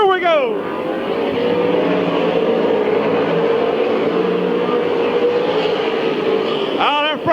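Stock race cars at Midvale Speedway roaring as they take the green flag. A loud, sustained engine drone fills the stretch, with cars sweeping close past at the start and again at the end.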